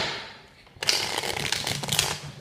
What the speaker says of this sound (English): Sorry, I dropped some of my cards. Let me go ahead and shuffle them again.